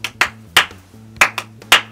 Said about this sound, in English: A couple of you will start and you'll just be clapping.